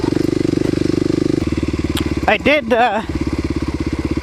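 A Kawasaki KLX250SF motorcycle engine idles with a rapid, steady putter, then revs up sharply a couple of times in loud, close bursts before settling back to idle, with no talking.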